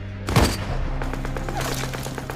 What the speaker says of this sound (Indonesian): Gregory yang mengawasi lubang itu langsung mengetahui pergerakan musuh dan melepaskan tembakan